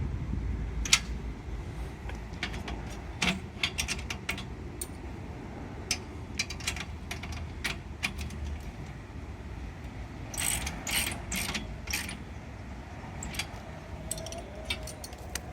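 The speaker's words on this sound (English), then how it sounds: "now if we tighten the top bolts on the back of the bracket" Ratchet wrench tightening the top bolts on the back of a solar panel bracket, with short bursts of clicking spread through the stretch amid light background noise.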